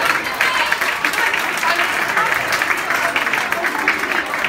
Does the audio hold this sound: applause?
yes